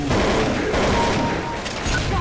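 Heavy, continuous gunfire in Counter-Strike: Source, dense overlapping shots and booms filling the whole stretch loudly with no pause.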